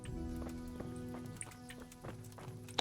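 Horse hooves clip-clop in the medieval role-playing game Kingdom Come: Deliverance, a steady run of light thuds beneath droning game music and ambience, with no talk.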